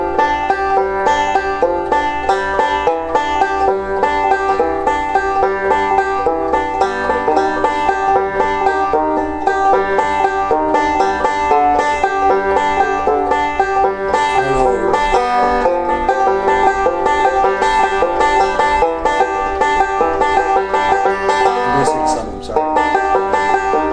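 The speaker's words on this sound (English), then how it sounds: "this thumb index exercise for Scruggs melody" A plucked banjo plays a steady, repetitive Scruggs-style thumb-index picking pattern alone, bright and close, with notes ringing continuously.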